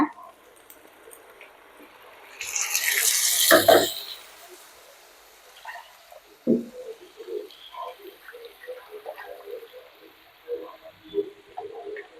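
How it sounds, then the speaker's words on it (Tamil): Water is poured into a mixer-grinder jar to rinse out ground tomato paste while cooking kuzhambu, a short splashing gush lasting about a second and a half, followed by faint kitchen clatter. "மறுபடியும் தண்ணி ஊற்றி ஜாரெல்லாம் கழுவி ஊற்றிடலாங்க"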